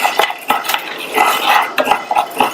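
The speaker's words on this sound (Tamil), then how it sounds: "இதுல 1/4 கப் ஜவ்வரிசியை சேர்த்துட்டு ஸ்டவ்வோட தீயை கொஞ்சம் குறைச்சிட்டு இந்த ஜவ்வரிசியை பொரியிற" A quarter cup of sago pearls roasts in a pan over a low flame, stirred with a metal spoon that scrapes and taps the pan in quick, irregular strokes; close and fairly loud, with no voices.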